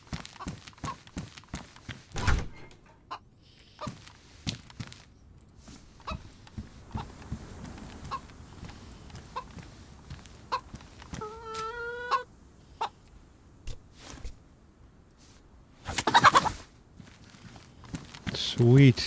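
A chicken in a survival video game clucks in short, scattered bursts among footsteps and other game noises, with a louder squawk near the end.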